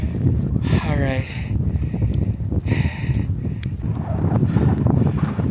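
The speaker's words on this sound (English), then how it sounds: "Very windy, a little cold." Strong mountain wind buffets the microphone on a high trail, a steady heavy roar with gusting surges. A voice is heard briefly over it.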